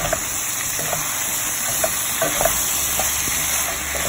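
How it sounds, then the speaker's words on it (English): Ground chicken soup with added salt being stirred in a pot, a steady low bubbling simmer with scattered soft scrapes and taps of the spoon against the pot, close and continuous. "I'm going to mix it all together"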